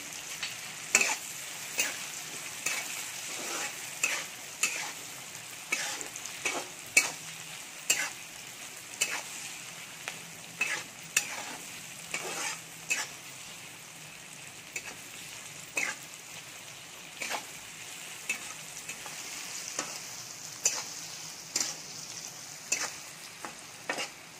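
Tomatoes fry with salt in a pan for a restaurant-style veg Kolhapuri, giving a steady sizzle broken by frequent sharp scrapes and clinks of a spoon stirring against the pan, fairly close, with no talking.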